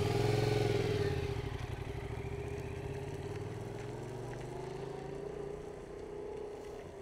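Yamaha MT07 motorcycle engine on a slalom course, loud at the start as it pulls away, then a steady revving drone that eases slightly and rises again near the end, with no talk.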